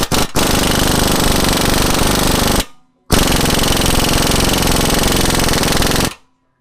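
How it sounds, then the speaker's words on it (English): Impact gun removing 14 mm bolts under a Honda Civic Si, two loud rattling bursts, each a couple of seconds long, separated by a short silence, close up and with no talk. "I'm gonna just hook it straight up to the impact gun and try to impact both these off"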